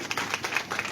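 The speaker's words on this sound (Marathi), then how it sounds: "जोरात टाळ्या वाजवायला" Brief, quiet rhythmic clapping from a small audience at a devotional singing program in Maharashtra, with evenly spaced claps over about a second and some background murmur.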